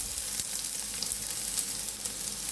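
Sliced onions fry in a hot pan on a gas stove, giving a continuous bright sizzle with small pops and crackles, close and steady with no voices.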